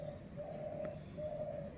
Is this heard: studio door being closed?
no